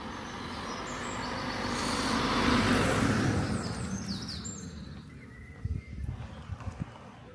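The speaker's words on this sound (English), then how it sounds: "sounds like a car coming, which is unusual." A car or van approaches and passes on a road through the undercliff near Ventnor on the Isle of Wight, its broad rushing swell building to a peak, then fading as birds chirp nearby.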